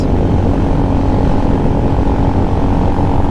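A new Venom X22GT 250cc automatic motorcycle cruises on a freeway at part throttle, its engine drone steady and loud, with heavy wind roar throughout and no voices.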